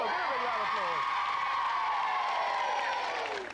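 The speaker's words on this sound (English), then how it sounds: "give them a round of applause" A 1992 TV game-show studio audience bursts into applause and cheering, with a loud wash of clapping and whoops under sweeping show sound effects, fading at the end.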